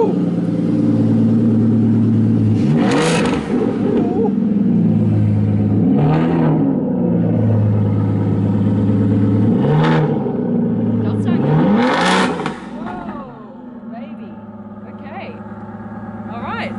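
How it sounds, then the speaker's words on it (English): An Aston Martin Vanquish S engine idles with a deep rumble, then revs sharply several times in loud bursts, each climbing and falling back, before settling to a quieter idle. "the Vanquish S is the best sounding car on the market"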